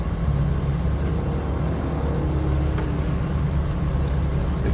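Car engine in the racing game Project Cars 2, a loud, steady rumbling drone with road-like noise that holds evenly throughout with no talking over it.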